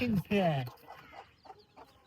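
Native hens clucking in a cage, a couple of loud close drawn-out calls followed by softer scattered clucks and murmurs.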